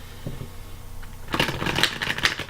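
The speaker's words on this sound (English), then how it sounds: "I'm just giving them a couple more shuffles before I get started" Tarot card decks being shuffled by hand, a burst of crisp riffling and slapping cards after a quieter opening with a few soft taps, close and fairly loud.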